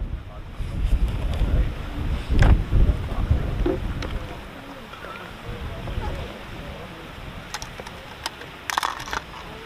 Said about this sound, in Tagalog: Ang lakas yung hangin doon.